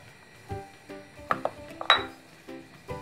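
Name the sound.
stirring batter with melted butter in a bowl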